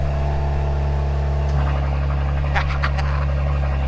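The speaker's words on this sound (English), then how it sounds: "let's do a little cold start for the boys and girls. The valves are shut" A car engine idles right after a cold start with its exhaust valves shut, giving a steady low drone with a deep, even rumble and a few faint clicks and scrapes over the top.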